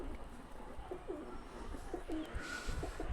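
Pigeons cooing in soft, repeated low calls over a steady outdoor background hum, with a few faint chirps mixed in.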